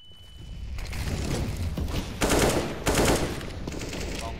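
Rapid automatic gunfire from the video game CS:GO during a competitive match, with bursts of loud rattling shots that swell and fade in clusters, heard over a continuous busy game-sound backdrop.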